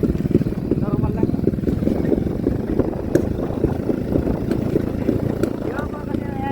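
A 100cc motorcycle engine runs steadily close by, a continuous low chugging drone, with people talking over it.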